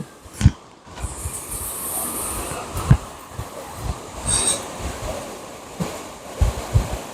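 Floodwater of the Paliyar river rushing and pouring over a drop, a continuous heavy roar outdoors with occasional louder thumps and surges.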